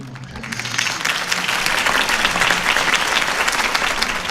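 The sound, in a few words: crowd applause after campaign speech in Telltale Batman video game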